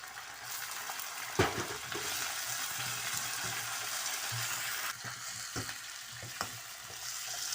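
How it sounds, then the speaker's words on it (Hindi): Chicken sizzles and fries in a pan with garlic and ginger, a steady close crackle broken by a few sharp stirring knocks, with no talking. "अब इसमें मैं चिकन डालने लगी हूँ। लहसुन अदरक मैं साथ ही डालूंगी।"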